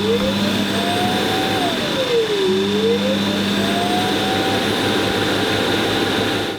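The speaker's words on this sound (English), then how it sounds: "When it's auto-emptying the whole dust stuff, that's really loud" A MOVA Z60 Ultra Roller robot vacuum's dock empties its dust with a loud, steady roaring whoosh of motor and airflow that holds a constant level throughout, with a faint whine above.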